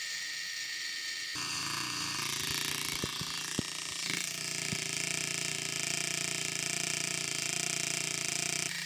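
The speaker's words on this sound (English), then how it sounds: "What we're hearing here is just some wobble in this axle and this gear" A radio-controlled car's axle and gear wobbling as the wheels turn under steering, recorded up close with an extra mic: a steady whirring whine with scattered ticks and clicks, no talk.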